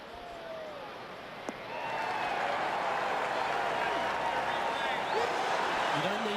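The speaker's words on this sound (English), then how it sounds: "This crowd is loud." Golf crowd cheering and applauding in PGA TOUR 2K21 at TPC Scottsdale, a sustained roar swelling after a short click and holding steady, with a voice talking over it.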